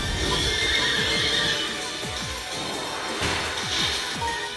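A horse in the Miitopia video game neighs and whinnies repeatedly over a busy stretch of game sound, the calls recurring every half second or so alongside hoof-like clip-clops.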